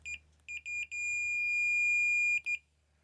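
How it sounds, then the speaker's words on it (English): Fluke 117 multimeter in continuity mode giving a high, clean electronic tone: several short beeps, then one long steady tone, then two more quick beeps, close and alone. "I will get my multimeter, and it's a Fluke 117, and it has this tone section."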